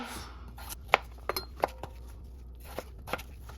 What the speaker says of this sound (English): Now I'm just gonna dice the potatoes.